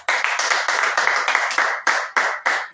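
A church congregation claps together after a preacher calls out praise, a steady run of dense, close hand claps with brief regular surges and no talk over it.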